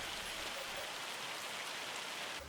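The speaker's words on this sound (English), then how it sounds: "It's still raining, apparently." Steady rain from the video game Farming Simulator 25, a dense, even hiss of falling drops that holds at the same loudness throughout, with no voices.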